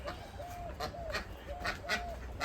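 Chickens call in short, nasal, honking clucks, repeating several times in quick succession, fairly close, over a low background rumble.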